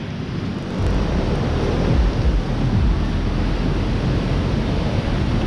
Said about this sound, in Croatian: Ovo su slapovi Firisona